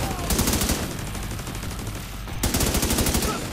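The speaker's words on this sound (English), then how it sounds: "Get him, turret." Rapid automatic turret fire in The Division 2 in two loud bursts with a short lull between them, close and sharp, over a busy combat backdrop.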